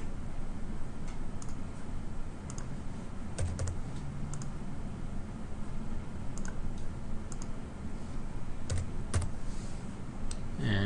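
Steady typing on a computer keyboard as data points are entered, a soft run of rapid clicks and taps with a few louder keystrokes, close and quiet with no talking.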